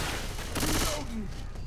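Gunfire from a Left 4 Dead 2 match, a dense burst of shots in the middle of continuous game noise, with a voice talking over it.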